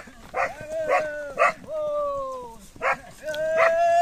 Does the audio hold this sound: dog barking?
yes